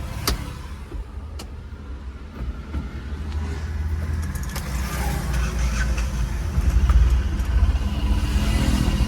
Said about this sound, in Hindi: मैं फिर से वापस गाड़ी में बैठ गया और चल गया